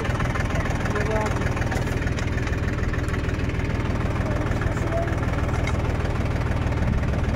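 A tractor engine runs hooked up to drive an urad bean thresher, giving a steady, dense mechanical drone close by that continues unbroken from start to finish.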